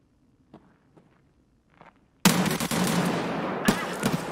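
Gunfire in the shooter game Escape From Tarkov erupts after a few quiet footsteps, becoming a loud, sustained burst of rapid close shots with one sharper crack partway through.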